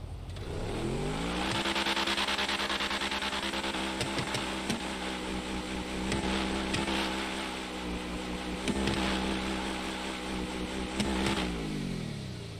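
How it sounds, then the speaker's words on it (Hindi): A Bugatti in GTA 5 revs hard, its engine note climbing and holding loud and close, with sharp backfire pops and crackles scattered through the steady roar. "मैं सबसे पहले गाड़ी में बैठ के बैक फायर देता हूँ गाइस, आप लोग चेकआउट करो बैक फायर।"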